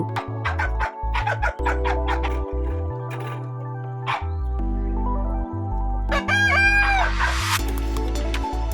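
Several chickens cluck and call over a loud steady hum, with a rooster crowing near the end and a few sharp squawks.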